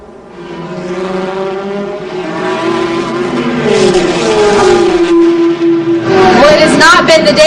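Ferrari and Porsche GT race cars roar along the back straight at Road Atlanta. Engine tones climb loudly and a second car closes in near the end, all under continuous commentary.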